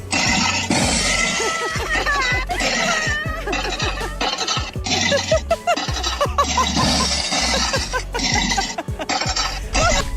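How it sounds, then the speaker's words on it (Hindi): Glass panels on a glass bridge crack and clink in repeated sharp bursts, with loud crunching hits coming at irregular intervals over a low rumble throughout. "और ब्रिज के क्रैकिंग इफेक्ट ने तो इस आदमी को घुटनों पर लाकर बिठा दिया।"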